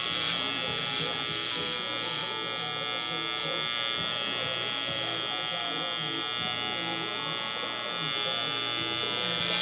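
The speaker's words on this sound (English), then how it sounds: "we're gonna bald out the bottom with our trimmer" Electric hair trimmer buzzing steadily as it shaves the bottom of a haircut down to bare skin, close and continuous, with someone talking over it.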